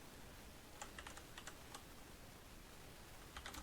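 Keys on a computer keyboard tapped in short bursts of quick clicks with pauses between, fairly close and soft, alone over a faint steady background hiss.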